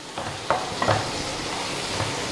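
Tomato sautés with spice powders in a pan, hissing in a steady sizzle while a spoon scrapes and stirs a couple of times, close and moderately loud, with no talk.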